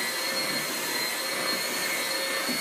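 An electric mixer blends peanut butter pie filling, a steady, loud motor whir with a constant high hum, unbroken and close throughout.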